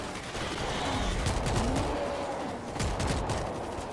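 Machine gun fire in the video game World War Z: Aftermath rattles on as a steady, dense stream of shots under a busy, noisy mix, with faint voices in the background.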